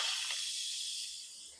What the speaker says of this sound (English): going to release the rest of the pressure by pressing the release button, and steam will be released